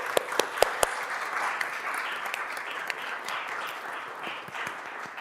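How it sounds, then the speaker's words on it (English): Brief audience applause at a Columbus City Council meeting, a moderate, even patter of clapping opening with a few sharp, close individual claps, then holding steady for several seconds. "So if we could just give them a round of applause really quickly"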